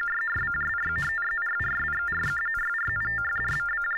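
TTY data tones played into a payphone ring out as repeated bursts of warbling, beeping tones over a steady high whine, three clear groups at an even rhythm.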